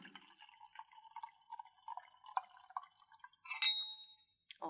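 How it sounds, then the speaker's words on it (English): Riesling wine trickles and splashes into a glass, a series of light, bright drips and small pours with a ringing glassy tone, close and quiet. "So let me pour the first glass here for you."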